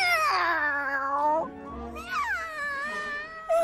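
A person imitates a cat, giving long drawn-out theatrical meows, two loud wavering calls with a short gap between, like a caterwauling street cat.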